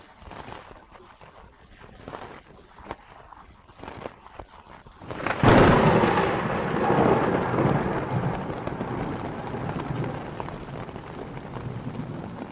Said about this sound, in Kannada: ಭಾರೀ ಸಿಡಿಲು ಗುಡುಗಿತು. ಆಕಾಶವೇ ನಡುಗಿದಂತಾಯಿತು.